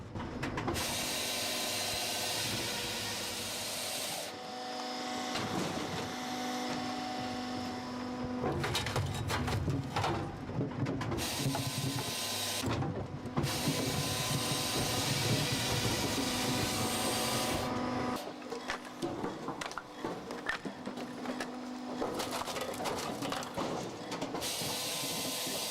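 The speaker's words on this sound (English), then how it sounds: "A rotating star-shaped wedge spins into action, dividing the log into equal parts" An automatic log splitter with a rotating star-shaped wedge working firewood, a continuous loud mechanical grinding and rumbling with repeated clanks and pulses over a dense hum, no voices.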